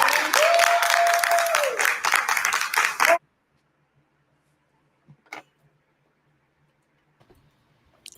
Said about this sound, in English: the audience started clapping for her